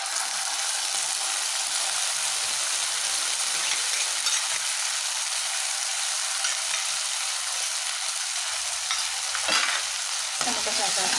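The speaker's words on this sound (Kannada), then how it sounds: "ಟೊಮೊಟೊ ಸಾಸ್ ಹಾಕಿ ಸ್ವಲ್ಪ ಚೆನ್ನಾಗಿ ಫ್ರೈ ಮಾಡಬೇಕು" Chicken manchurian pieces fry in hot oil with a spoonful of tomato sauce, giving a steady close sizzle throughout with occasional scraping stirs near the end and no voices.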